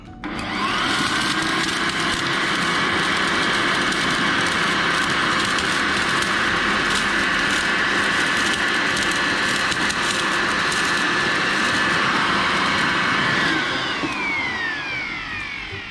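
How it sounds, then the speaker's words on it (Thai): A Total TB2066 600-watt electric blower running in vacuum mode at speed three sucks up dust with a loud, steady whine and whoosh that holds for about fourteen seconds before beginning to wind down. "เดี๋ยวเรามาลองกันนะผมจะใช้เบอร์กลางๆนะครับ สักเบอร์สามนะครับ แล้วดูดฝุ่นตรงนี้ดูนะครับ"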